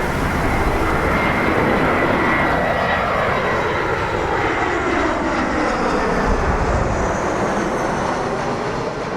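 Airplane passing at Malaga airport, a loud, broad jet roar with descending whine tones sweeping across as it goes by, sustained throughout and heard alone without talking.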